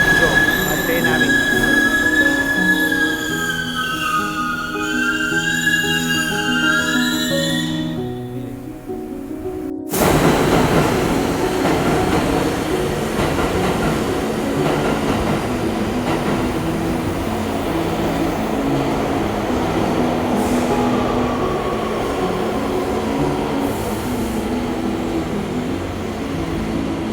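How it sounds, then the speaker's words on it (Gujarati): A subway train pulls into a station on an underground line in New York, its wheels squealing and rumbling loudly and steadily over a long stretch, with faint voices under the din. "જો આ ટ્રેન આવી."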